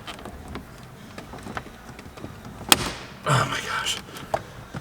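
Plastic dash bezel on a wrecked Hellcat Charger cracking as it is pried off, with sharp snaps and ticks, a loud crack midway and a crunchy burst after it, while a person exclaims.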